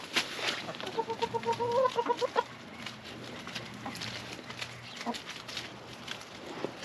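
Chickens cluck and squawk nearby in a quick rising run of calls, followed by softer scattered clucks against an outdoor background.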